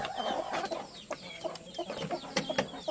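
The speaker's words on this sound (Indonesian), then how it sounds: "Yuk keluar ayam." Several Bangkok breed hens clucking close by in a busy, overlapping stream of short calls, with a few sharper squawks standing out.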